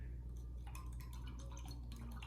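A cleaning solution for a Rotimatic roti maker is stirred in a container, producing soft, quiet liquid swishes and light clinks of the utensil against the vessel over a steady low hum.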